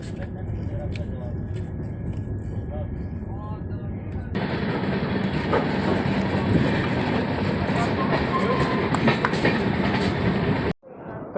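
The Amrapali Express running on the line, with a continuous close rumble and clickety-clack of rolling wheels that grows louder after a few seconds; a voice talks faintly underneath.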